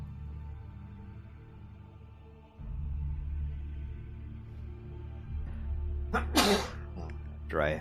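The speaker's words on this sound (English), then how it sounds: "After I have a huge sneeze" A single huge human sneeze bursts out loudly near the end, sharp and close, after a stretch of low steady game background hum in World of Warcraft Classic.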